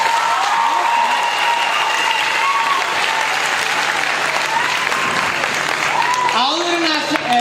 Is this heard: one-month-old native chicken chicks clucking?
no